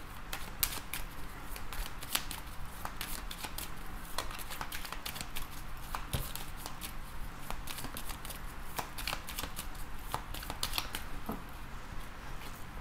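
A deck of oracle cards is shuffled up close, producing a quiet, continuous run of rapid papery riffles and flicks with no talking.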